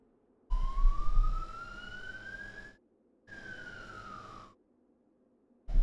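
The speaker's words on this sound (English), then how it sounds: "it was a siren." Siren call in the video game Dark Souls 2, a loud rising tone that sweeps upward and then falls back in two separate bursts with a gap between them.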